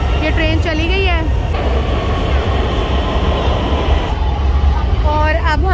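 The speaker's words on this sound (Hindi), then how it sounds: "ये ट्रेन चली गई है" A Lahore Orange Line metro train pulls out of a station with a loud, steady rumble and rising whine, close by and filling the scene, with people talking throughout.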